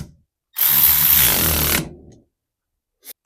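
A quarter-inch driver runs briefly to tighten the wiper motor bolts, one loud close whirring burst of about a second and a half, followed by a short faint click.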